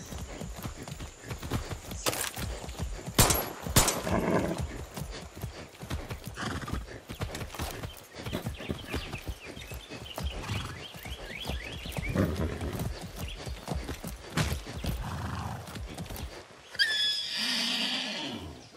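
Horse in the video game Far Cry 6 gallops with a steady clip-clop of hooves and whinnies loudly partway through, with in-game ambience around it.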